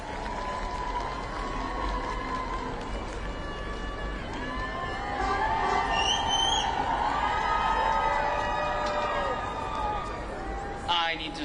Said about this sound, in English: Let's give them a round of applause while they're getting set up.